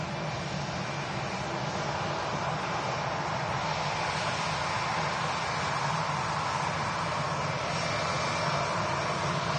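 EasyJet airliner at Manchester Airport, its jet engines giving a loud, constant roar that holds steady throughout with no talking.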